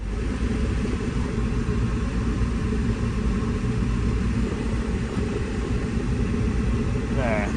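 A Chevrolet Colorado pickup truck engine runs continuously, giving a loud, close, steady low rumble that holds unchanged throughout.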